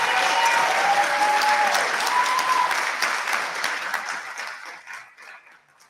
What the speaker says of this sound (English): How about another round of applause for these graduates?